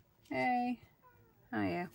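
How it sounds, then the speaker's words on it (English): A Persian cat gives two drawn-out meows, close and fairly loud, with a brief pause between them. A person talks nearby. "That's my cat."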